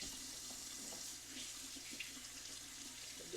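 Warm water runs steadily from a kitchen tap during baking prep for a chocolate cake, a continuous close hiss and splash with no talk.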